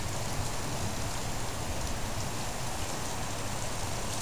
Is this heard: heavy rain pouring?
yes